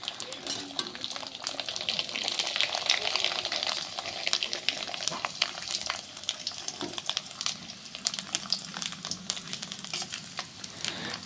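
Papads frying in hot oil in a wok, a busy crackling sizzle with scattered sharp pops, close and steady, with a voice talking faintly underneath.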